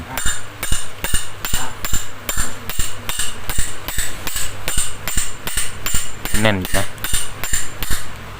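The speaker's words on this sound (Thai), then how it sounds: "อันนี้เราตอกเลยครับง่ายๆเราจะเปลี่ยนใหม่ครับ" The metal shaft of a small electric fan is hammered out during repair: a close, steady series of about nineteen sharp metallic strikes in an even rhythm, with a brief spoken remark partway through.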